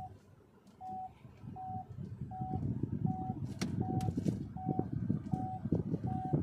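An MG Gloster's parking assist gives off evenly spaced indication beeps, about one per second, over a low vehicle rumble and faint background noise.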